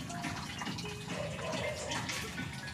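Cold water pours steadily into a bowl of freshly grated coconut for the first squeeze of coconut milk. The close, continuous splashing and trickling has no talk over it.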